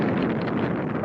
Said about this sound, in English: we're hearing the wind of North Dakota